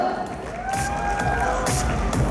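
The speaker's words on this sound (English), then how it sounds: "let me hear some cheer" A crowd cheers and whoops at a women's awards ceremony in a shopping mall, a steady roar of voices holding throughout with bursts of brighter shouting.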